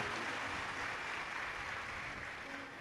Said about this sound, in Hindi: उनके लिए एक बार जोरदार ताली बजाकर साथी